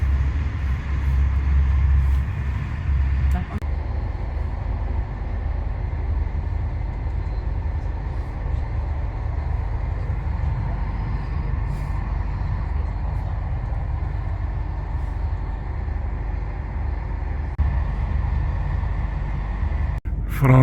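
A train rolls through the French countryside, heard from inside the carriage as a steady, even low rumble of wheels and motion that fills the whole stretch without breaks.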